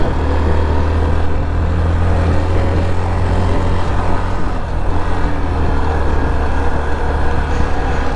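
Motorbikes, among them a Yamaha FZX with a bent rim, roll downhill one after another on a mountain road between Bogalake and Thanchi. Engine and road rumble runs steady and loud throughout, low-pitched and continuous, with no voices.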